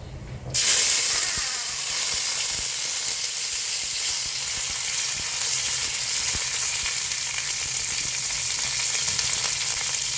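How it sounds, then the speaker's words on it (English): Hot oil splattering and sizzling hard as chicken curry fries in a pan, a loud steady hiss that starts abruptly and carries on close up with faint pops and clatter, no talking. "the oil is splattering like crazy"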